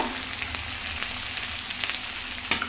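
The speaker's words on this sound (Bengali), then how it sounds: "পেঁয়াজটা লাল করে ভাজা হতে হতে পটলটা আমি একটু ঠান্ডা করে নিব।" Onions sizzle and crackle in hot oil in a pan, frying until browned, a steady frying hiss with occasional sharper pops, close up and without talk.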